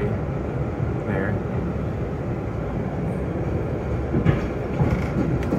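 A PATH train rides the rails toward Newark, a loud continuous rumble and roar of wheels on track heard from inside the car, with occasional higher squeals.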